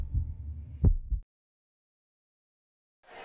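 A heartbeat sound effect in a cardiology advertisement gives a deep, muffled low thump with a soft hum under it, close and fairly loud, then cuts off into silence.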